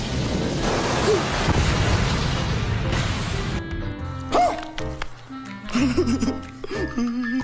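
A Fire Ball Jutsu attack in a Naruto anime fight makes a loud, dense roaring blast for a few seconds, then cuts off into quieter passages with voices and sharp hits.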